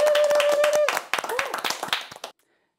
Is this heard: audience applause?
yes